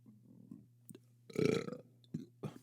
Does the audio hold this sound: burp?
yes